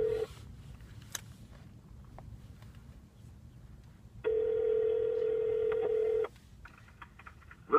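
Telephone call being placed, with a few faint keypad tones followed by a loud, steady dial or ringing tone lasting about two seconds, close and clear against quiet room noise.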